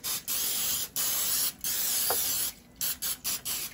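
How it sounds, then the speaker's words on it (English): Several short bursts of butter spray hiss close up onto a pan, separated by brief pauses, with a steady quiet background. "Spray the pan with the butter spray"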